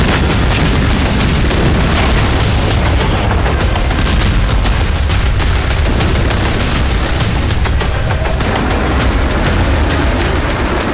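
Israeli air strikes hitting Syria, a dense and loud barrage of booming blasts and sharp cracks that comes in rapid, overlapping bursts, with no pause and no voices.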